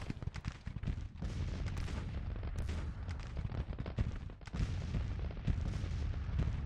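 Cannon artillery fire in the Civil War strategy game Grand Tactician, a dense, loud barrage of booming shots and rumbling blasts that overlap continuously.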